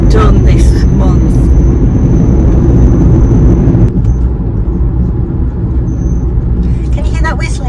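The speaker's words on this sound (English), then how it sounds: "Can you hear that whistling in my car?" A thin, steady high whistle rises inside a moving car over loud road and engine rumble, then cuts out abruptly partway through while the low driving noise continues.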